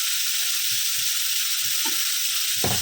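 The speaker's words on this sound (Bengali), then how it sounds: "আমি আলুটা আর গাজরটা একসঙ্গেই ভাজবো সামান্য একটু নুন দিলাম" Potato and carrot pieces fry together in a pan with a little salt, giving a steady close sizzle with a few soft stirring scrapes.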